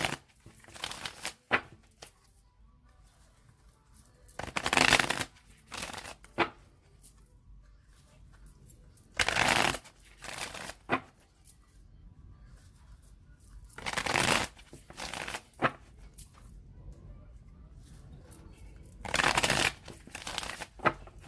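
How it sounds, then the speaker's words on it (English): A deck of tarot cards is shuffled by hand in repeated riffling bursts, each a few seconds of crisp papery fluttering separated by quieter handling and pauses, close and clear with no talking. "I'm going to shuffle it 3 more times"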